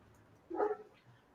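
A single dog bark rings out once, short and somewhat distant, over a quiet indoor background.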